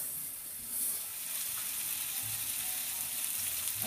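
Mushroom burgers sizzle in a pan with butter and olive oil. A steady, close frying hiss runs throughout with no talk.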